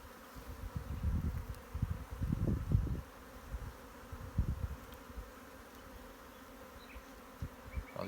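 Honeybees buzzing around an open hive as frames are inspected, a low droning hum that swells in several louder close passes over the first seconds and then settles into a steady fainter buzz.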